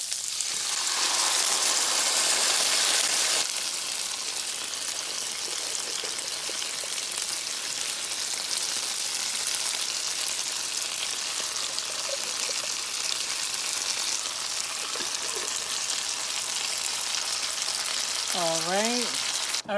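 Beans and hot dogs simmering and sizzling in a pan make a steady, close frying hiss and crackle that lasts throughout. A loud splashing pour comes at the start, and a short voice-like sound near the end.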